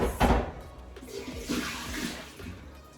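Water splashes and gurgles as a food processor bowl is rinsed under a running tap, a close, rushing burst that eases into steady flow.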